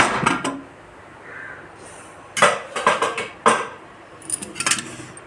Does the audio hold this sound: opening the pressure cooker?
yes